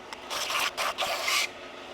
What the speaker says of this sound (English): I'm just going to deburr this real quick.